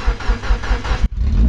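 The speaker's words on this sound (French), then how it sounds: "il n'y a pas de pot d'échappement, ça va faire peut-être un peu de bruit" Mazda Japanese drift car with no exhaust fitted, its engine firing up and revving loudly and raw up close for a second, cutting briefly, then roaring again.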